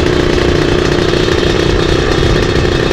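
Yamaha RX King motorcycle engine running steadily while being ridden at night, a loud continuous low rumble with a rough, clattering texture and no talk.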